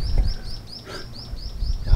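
A bird on the Okinawa seashore repeats a short, high chirping call several times in a quick series over low surf and ambient rumble.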